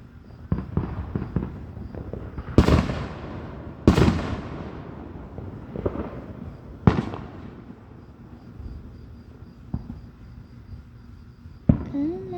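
A fireworks display bursts in the distance: several sharp booms and pops go off at irregular intervals, each followed by a crackling trail, with faint voices nearby.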